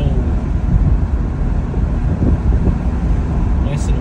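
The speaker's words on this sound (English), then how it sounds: "Nice and windy." Wind buffets the microphone outdoors in Evanston, Calgary, Canada, in a steady, loud low roar, with no clear speech.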